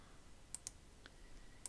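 A few sharp, quiet computer mouse clicks in a Blender 3D modelling session, spaced irregularly with two close together early and one more near the end, over faint room hiss.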